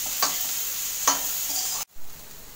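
Onion, ginger and green chili fry in oil for poha, a steady bright sizzle with two spatula scrapes, then a brief break before the frying resumes.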